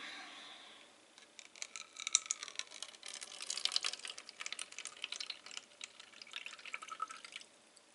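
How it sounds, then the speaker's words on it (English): Faint trickling and dripping water poured out of a nasturtium seed-soaking container, a thin stream splashing in irregular bursts for several seconds, close by and quiet. "Pour the water out."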